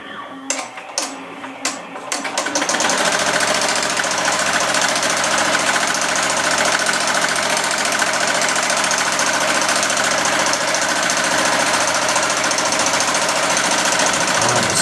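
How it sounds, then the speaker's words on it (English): A commercial embroidery machine runs steadily as it sews a placement stitch directly into a hoodie, a loud continuous mechanical hum and rapid needle chatter starting after a few brief clicks and jolts. "So all we did is went ahead and put a placement stitch directly in the hoodie."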